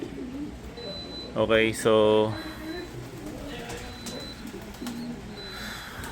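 Pigeons cooing in a loft, a couple of resonant coo phrases over ambient background noise, with someone speaking briefly.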